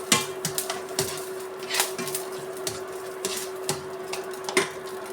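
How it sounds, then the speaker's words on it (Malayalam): Onion, ginger, green chilli and curry leaves sautéed in a pan for egg curry: a steady soft sizzle broken by irregular sharp clicks and clatters of a spatula against the pan, close and moderately loud, with no talking. "അതിനകത്തേക്ക് സവാള ഇടുന്നു ഇഞ്ചി പച്ചമുളക് കറിവേപ്പില നന്നായി വഴറ്റിയെടുക്കണം"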